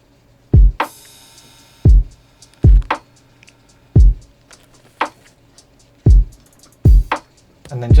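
Full drum kit in an electronic track, with punchy kicks and snare hits in a steady repeating groove and hi-hats running through, loud and alone with no talking.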